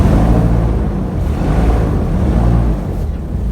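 A two-ton aircraft-grade aluminum airboat in the Everglades, driven by twin 500-cubic-inch Cadillac V8 engines, gives a steady, heavy, close roar with broad wind-like rushing throughout.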